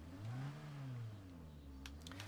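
A car engine hums in the video game State of Decay 2, its pitch rising and falling as it drives and revs, with faint clicks near the end.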